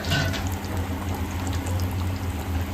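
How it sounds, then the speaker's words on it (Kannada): Food frying in hot oil in a home kitchen, giving a loud, steady crackling sizzle close by with no voices over it. "ನೋಡಿ ಎಣ್ಣೆಯಲ್ಲಿ ಕುದೀತಾ ಇದೆ"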